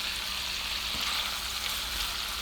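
Chipped beef gravy cooks in a pan with a steady, close sizzle and bubbling hiss, uninterrupted and fairly loud, with no talking.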